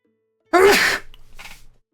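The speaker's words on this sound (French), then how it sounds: "Je vais éternuer." A single sharp, loud sneeze bursts out close by, followed by a softer breathy exhale.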